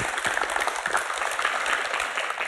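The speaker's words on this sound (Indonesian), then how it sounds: "Boleh berikan tepuk tangan." A crowd claps steadily, a dense patter of many hands at moderate volume, continuing without pause and without speech.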